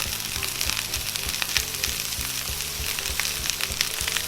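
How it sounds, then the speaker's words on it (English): Asparagus sizzles steadily in butter in a hot pan, a loud, continuous crackling fry with a low rhythmic stirring or scraping underneath, and no voices. "we're gonna add our asparagus inside. I'll add a little bit of butter"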